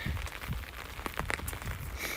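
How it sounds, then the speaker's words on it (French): Rain patters unevenly on a French umbrella held outdoors, a soft close drizzle of scattered taps and crackles running continuously for a couple of seconds. "là, la pluie commence à être chiant"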